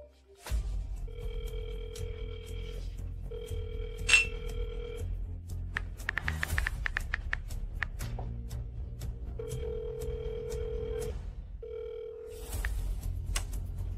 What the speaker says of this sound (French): Pourquoi King Jiang ne répond pas au téléphone?